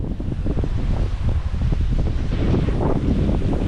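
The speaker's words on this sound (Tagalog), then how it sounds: "Lakas ng hangin mga kagilo." Strong wind roars steadily and loudly against the microphone, with a constant rushing buffet and no voices.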